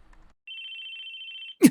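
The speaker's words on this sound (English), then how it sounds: "It was the sound of a phone ringing." Phone ringing in the video game Chaos;Head Noah, one steady electronic ring tone held for about a second in near silence, followed by a brief thump.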